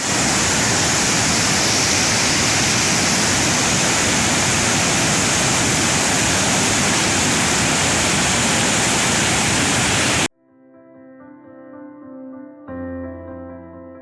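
A swollen, rising Lashku stream near Munsiyari roars as a loud, steady rush of water for about ten seconds, then cuts off abruptly and gives way to music.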